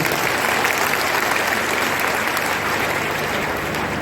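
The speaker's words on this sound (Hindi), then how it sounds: "एक बार फिर से तुमसे लिए जोरदार तालियां बजा दीजिए।" Steady, dense applause from a large seminar audience, loud and continuous throughout without pause.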